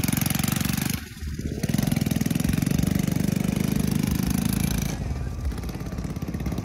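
A loud engine runs close by with a rapid pulsing chug, dipping briefly then surging again and holding steady at high revs.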